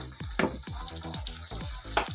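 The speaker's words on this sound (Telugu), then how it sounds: "ఇప్పుడు మళ్ళీ నూనెలో వేయించుకుంటున్నాను" Ground masala paste frying in oil for a paneer curry, a steady close sizzle broken by a rhythmic series of spatula scrapes and knocks against the pan.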